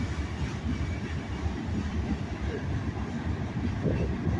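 A freight train rumbles past beneath Main Street in Greenwood, South Carolina, a continuous low heavy roll of railcars that stays steady and fairly loud throughout.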